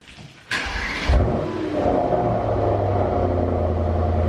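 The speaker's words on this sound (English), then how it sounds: "Cold startup time." An Alfa Romeo Stelvio cold start: a sharp starter crank, then the engine catches with a loud flare and settles into a steady, close idle.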